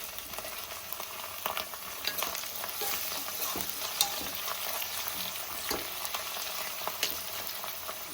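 Capsicum, green chillies and cauliflower fry in oil in a pan for paneer fried rice, giving a steady close sizzle broken by repeated scraping strokes of a spoon as the vegetables are stirred.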